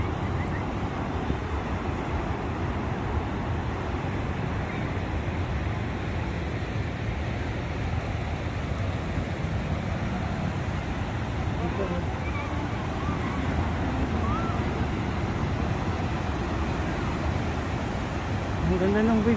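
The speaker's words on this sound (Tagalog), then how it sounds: "Laki ng waves." Ocean waves roll in at Lingayen Beach, a continuous broad wash of surf mixed with wind buffeting the microphone, steady and fairly close throughout.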